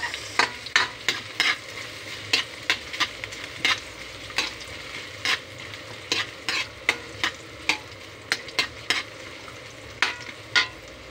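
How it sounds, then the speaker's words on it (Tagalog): Onion sizzles softly in a frying pan for chicken tinola while a utensil scrapes and taps against the pan in irregular stirring strokes. "Then isusunod ko yung sibuyas."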